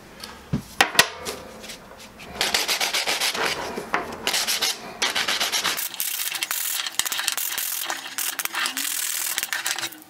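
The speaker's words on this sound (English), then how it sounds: "quickly beveled the edge of the rock so it's not sharp" A diamond hand pad grinds in steady rasping back-and-forth strokes against the edge of a cut flat river rock, beveling it; the scraping is close and continuous after a few initial knocks.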